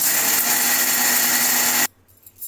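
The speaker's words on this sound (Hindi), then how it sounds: "अब इसे हम एक ग्राइंडर जार में लेके ग्राइंड कर लेंगे।" A grinder jar whirs loudly and steadily as it grinds peeled peanuts into powder, then cuts off abruptly near the end, leaving a quiet tail with a faint clatter.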